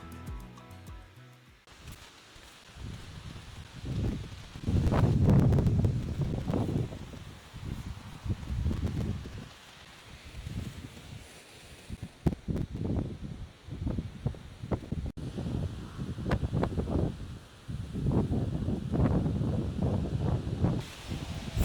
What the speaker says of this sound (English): it's still very windy. I don't know if the microphone gonna cope with that wind